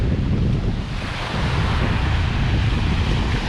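Rough ocean waves roll in at Miami Beach under strong gusting wind buffeting the microphone, a loud, dense, unbroken roar with no voices.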